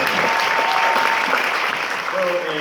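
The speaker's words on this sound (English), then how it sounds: "Please give them a round of applause." A film-festival audience applauds after a screening, steady dense clapping filling the room at full volume throughout, with a few faint voices mixed in.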